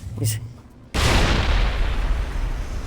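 A high explosive grenade goes off in Mass Effect, one loud sudden blast followed by a long rumbling, fading roar.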